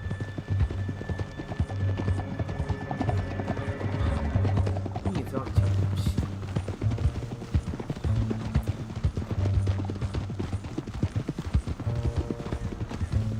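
Horse hooves clopping in Red Dead Redemption 2, a continuous rhythmic galloping beat with low rumbling under it, while voices talk over the riding.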